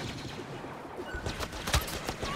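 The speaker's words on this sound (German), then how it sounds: "Und ich krieg Beschuss von der Seite." Sci-fi blaster fire in the Star Wars Battlefront beta's Drop Zone mode: scattered shots from several directions, with one loud close burst near the end, over a busy battle din.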